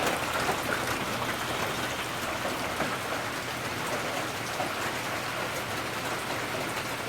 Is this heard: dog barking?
no